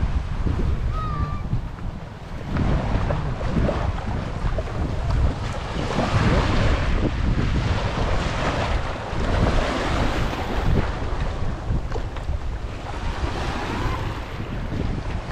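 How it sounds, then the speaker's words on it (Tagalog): Continuous rushing roar of sea waves mixed with strong wind buffeting the microphone, loud and unbroken throughout. "Ito ang lagay ng dagat namin ngayon mga kasinag."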